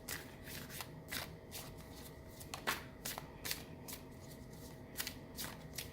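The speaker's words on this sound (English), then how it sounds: "I'm just going to go ahead and shuffle the cards" Rapid riffling bursts of tarot cards being shuffled, repeated several times at close range over a low steady background hiss.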